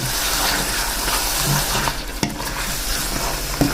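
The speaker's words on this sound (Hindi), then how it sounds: "अब इसको 10 से 15 मिनट अच्छी तरह फ्राई करेंगे इसको।" Chicken and tinda fry in a pan with a steady, close sizzle, broken by scraping stirs and a few spoon clinks against the metal.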